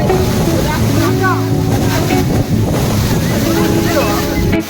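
Katika waterfalls in Andhra Pradesh give off a constant heavy roar of crashing water and spray, mixed with wind buffeting the microphone, while a person talks over the noise.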